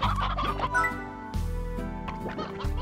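Fertilized chickens in Slime Rancher cluck in short, clipped bursts, several birds close and fairly loud over a busy game background with overlapping chirpy calls.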